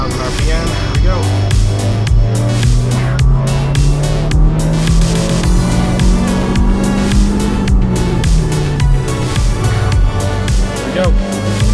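2012 Mazdaspeed 3 pulling hard in third gear from 3,000 RPM, engine note climbing steadily then easing, loud and close from inside the cabin under a constant roar.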